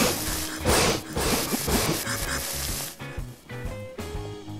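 Fire burning on players in Garry's Mod: a steady crackling sizzle with hissing bursts, dense and continuous throughout with no talking.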